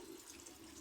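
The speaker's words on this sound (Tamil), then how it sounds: "தண்ணி சேர்த்துக்கிட்டாச்சு." Water pours into a cooking pot for making vegetable biryani with rice, giving a steady, faint, close gushing wash that lasts the whole moment without a break.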